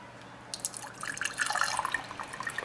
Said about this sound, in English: the two holes is to get air in so you can pour the milk out